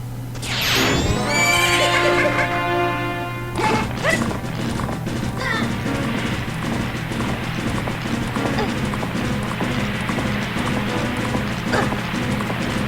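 Horse neighs and galloping hooves from the video game The Legend of Zelda: Majora's Mask, a loud whinny up front followed by rapid clip-clop hoofbeats and clattering game effects.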